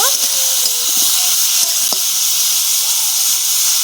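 Cauliflower with turmeric and salt fries in a pan, giving a loud, close, constant sizzle and hiss with a few scraping stirs.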